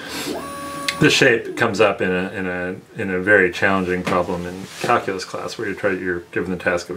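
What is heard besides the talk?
3D printer printing a shape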